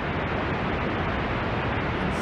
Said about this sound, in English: I'm going to turn up the pink noise